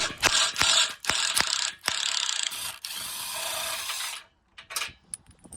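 A ratchet wrench backing out a 13mm screw, with loud, close bursts of rapid clicking broken by short sharp knocks, then a quieter pause and a few final clicks.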